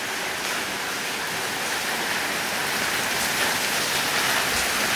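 Heavy rain pours outdoors in the early-morning dark, a dense, steady hiss of downpour on surfaces, loud and unbroken, with no voices.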